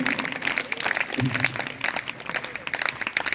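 Applause welcoming an honoured guest at a girls' gurukul Arya Samaj gathering, a thin, quiet patter of many hands with a murmur of voices underneath, heard at some distance.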